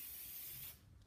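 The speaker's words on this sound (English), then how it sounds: "So I'm going to go ahead and spray a coat on there." An acrylic spray can mists a coat onto tile coasters, a close hissing burst that cuts off abruptly after under a second, with no talk.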